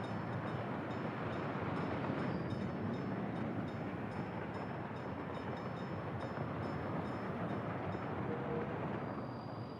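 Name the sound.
train in video game Workers & Resources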